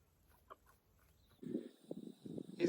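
Chickens in a movable backyard coop, soft low clucks and murmuring calls from a few birds, quiet at first and then a closer cluster of clucking, with faint outdoor background.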